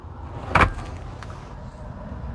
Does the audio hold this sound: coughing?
no